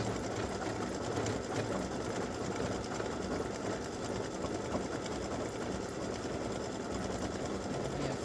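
An embroidery sewing machine runs steadily, stitching a side seam scissors and roses design with a dense, rapid mechanical chatter that stays even and loud throughout, alone with no talk.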